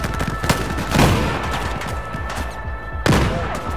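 Battlefield 4 video game firefight in the Kunlun Mountains, with a continuous barrage of gunfire punctuated by heavy blasts, including a grenade explosion, close and loud.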